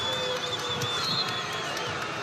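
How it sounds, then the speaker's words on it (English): A basketball arena crowd jeers during an NCAA men's game between Nevada and Boise State, a dense, steady roar of many voices that holds at a loud level throughout. "The crowd does not like this"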